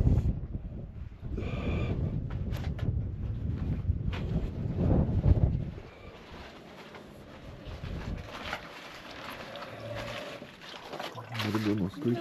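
Wind gusts outdoors on a cool, windy day of about nine degrees during a bus trip across America. The rumble is heavy for the first half, then eases to a lighter rush while people talk.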